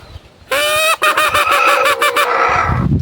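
Pet roosters answer a homemade wooden call with a burst of loud, close crowing and honking cries, several overlapping calls in quick succession lasting a couple of seconds.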